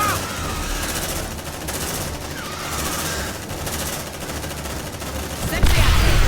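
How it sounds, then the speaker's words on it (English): Automated sentry turrets in the sci-fi game Aliens: Dark Descent pour out sustained rapid-fire gunfire, a dense continuous rattle of shots with a louder burst at the end, no voices. "The second turret is online and firing."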